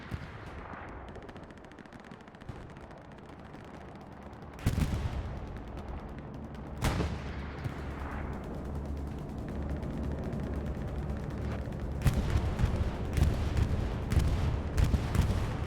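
Explosions from a bombing run in the World War II shooter Hell Let Loose on the Utah map, big blasts landing around 5 and 7 seconds over a steady backdrop of distant machine-gun and rifle fire that swells toward the end.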